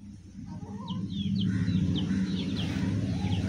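Chickens clucking in a home yard, several soft repeated clucks and short calls from a few birds over a steady low hum, moderately close.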